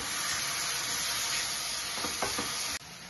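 Finely chopped medium-size tomatoes sizzle steadily in a hot pan for a tomato curry, with a few louder scraping stirs near the end before the frying hiss drops slightly; no voices.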